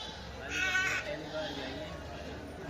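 Goats and kid goats bleat at a busy goat market in Balaheri, Rajasthan, one clear bleat standing out near the start amid crowd noise and people talking.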